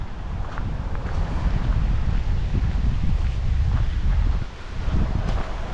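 Strong wind blowing steadily outdoors on a cold December day in New Zealand, a loud broadband rumble buffeting the microphone, with a brief dip near the end before gusting again.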